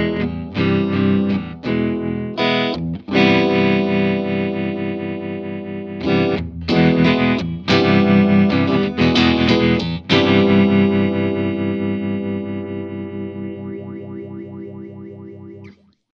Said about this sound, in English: Experimenting with the mix control at higher levels can give some almost tremolo-like sounds.